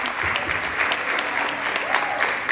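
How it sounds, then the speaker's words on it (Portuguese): A church congregation applauds a woman during a service, a close, loud burst of clapping with some crowd noise and a voice speaking over it. "vamos aplaudir ela"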